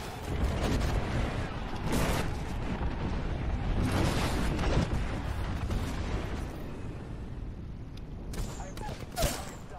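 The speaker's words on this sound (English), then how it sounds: "Call in the airstrike." An airstrike in Apex Legends sends a dense barrage of loud, overlapping explosions and booms rolling across the battlefield, with gunfire mixed in throughout.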